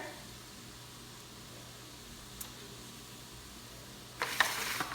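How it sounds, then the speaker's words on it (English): Butter sizzling in a pan while cooking Cajun shrimp and grits: a faint, steady frying hiss that flares into a louder crackling burst near the end. "I'm going to add some butter to this."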